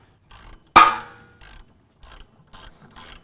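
Lug bolts on the lower strut mounts of a late 80s to mid 90s Honda suspension come free during a coilover install, giving one sharp metallic clunk followed by several short bursts of ratchet clicking, close and clear, with no talk.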